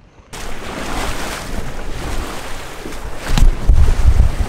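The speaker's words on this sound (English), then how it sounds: "those are some big, big waves" Big lake waves slap and wash against a small fishing boat in strong wind, a loud continuous rush with gusty microphone buffeting and heavier low thumps of water near the end.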